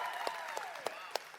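A conference audience applauds, a steady patter of many hands with a few sharp louder claps standing out, moderately distant and fairly quiet.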